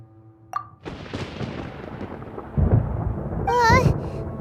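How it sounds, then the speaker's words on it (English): A thunder rumble in the video game Genshin Impact: a sharp crack leads into a rolling, swelling boom, with a brief warbling voice-like tone near the end. "Ah! Paimon hears thunder!"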